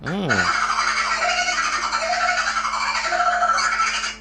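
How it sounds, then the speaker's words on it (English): A sped-up kookaburra call, the edited cartoon dolphin chatter, rises as a loud, dense run of rapid high squeaking, laughing chirps that fills the whole few seconds without a break. "It was really a sped-up edited call of this Australian bird called a kookaburra"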